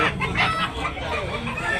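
A super brown red rooster at a busy chicken market in Cebu crows and clucks in short repeated bursts, close and fairly loud, amid a crowded market murmur.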